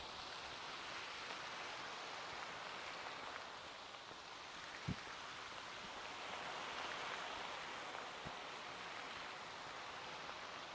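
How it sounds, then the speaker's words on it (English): Soft, steady rain falls in a video game world, a faint even hiss with a couple of small drips or taps, and no voices. "As it starts to rain in our cozy world."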